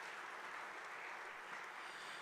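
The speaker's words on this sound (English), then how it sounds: "So round of applause for John for playing trombone for 57 years." Concert audience applauding after a trombone performance at a noontime music series, steady dense clapping that stays faint and distant throughout.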